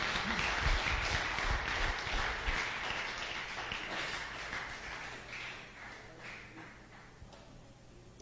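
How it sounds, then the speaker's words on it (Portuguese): Church congregation giving the Lord a strong round of applause, a broad wave of clapping that is fullest at the start and gradually fades toward the end, with a sharp thump right at the close. "Pode dar-lhe um aplauso ao nosso Senhor"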